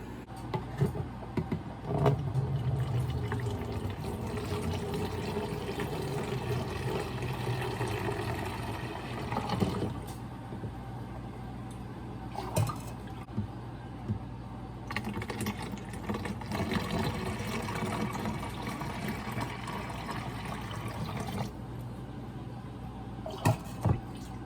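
Liquid pours through a spout into a container during road-trip food prep, an uneven, gurgling stream that surges and eases, with occasional knocks and clatters and no talking.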